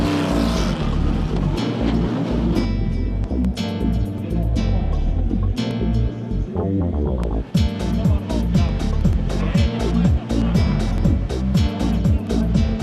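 Classic racing cars heading out to practice at the Le Mans Classic rev and roar close by, with sharp engine blips and repeated pass-bys, while a commentator talks over them.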